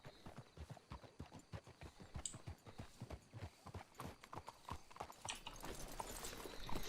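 Rhythmic clip-clop of horse hooves trotting at a steady pace in the video game Red Dead Redemption 2, close and clear, continuing throughout.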